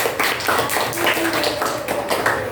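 A classroom of children claps in unison-ish rhythm, a brisk continuous run of close, overlapping hand claps with a few faint voices mixed in.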